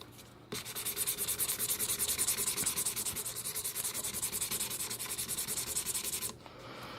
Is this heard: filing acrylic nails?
yes